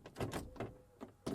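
Door lock carrier being jiggled into place inside the door of a Mk1 Skoda Fabia, a few soft metallic clunks and rattles in irregular bursts, close and quiet.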